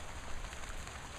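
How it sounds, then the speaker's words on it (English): Rain falls steadily on a garden with a raised bed, a dense, even patter heard close by for a short stretch with no talking. "It doesn't bother me to garden in the rain at all."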